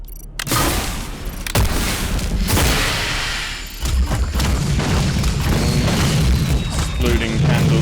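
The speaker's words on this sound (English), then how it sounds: "Exploding candles." Candles exploding in Luna Abyss, a string of loud booming blasts and crashes opening a dense, noisy barrage, with a voice speaking over the din.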